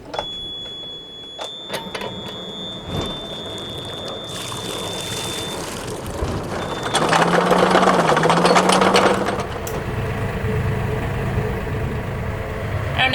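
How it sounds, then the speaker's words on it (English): The port engine of a sailing boat motoring between anchorages off Huahine in French Polynesia bogs down, a steady mechanical drone and whine that thickens and strains for a few seconds in the middle before settling, with water noise under it. "the port engine kind of made a funny, like, sounded like a bogged down sound"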